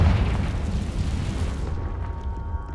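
Confringo fire spell blasting in the Hogwarts Legacy video game: one loud, broad booming explosion whose rumble rolls on and slowly fades over a few seconds, with no talk.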